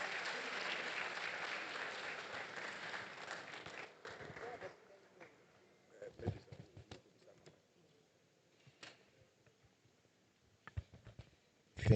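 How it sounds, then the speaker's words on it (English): Audience applause at a white coat ceremony, a steady wash of clapping for about four seconds that fades out, followed by scattered faint knocks and shuffles in a quiet hall. "let's welcome them with a round of applause."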